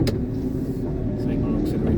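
An Iveco concrete mixer truck pulls away on narrow housing-estate roads after its auxiliary brake is released, giving a steady, loud, low diesel rumble that holds evenly throughout.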